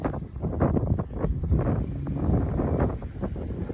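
High wind storm in Reynoldsburg, Ohio, strong gusts buffeting the microphone in a loud continuous roar with surging bursts and rustling, no voices.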